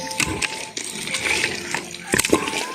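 Water is poured into dosa batter in a village kitchen, bursts of splashing and trickling with a few sharp clinks between the pours, close and fairly loud.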